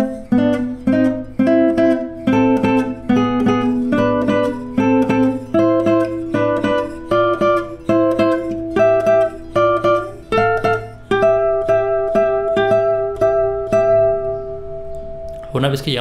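An acoustic guitar plays a passage of a song, a steady stream of plucked single notes over a low drone, loud and close throughout, ending on a held note.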